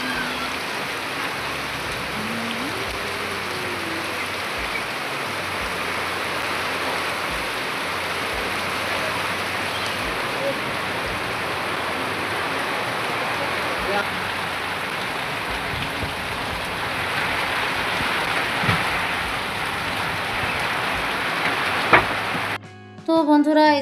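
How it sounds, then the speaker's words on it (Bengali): Heavy rain drumming steadily on a tin roof, a dense unbroken wash of patter that stays loud throughout, with a sudden clatter near the end. "এই যে টিনের চালে এই বৃষ্টির শব্দটা আমার এত পরিমাণ ভালো লাগে।"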